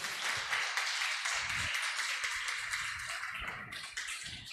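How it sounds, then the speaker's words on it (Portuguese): Catholic congregation applauding after the Gospel reading at Mass, a steady spread of clapping from many people, with low thumps and rumbles mixed in beneath. "Vamos aplaudir a palavra da salvação."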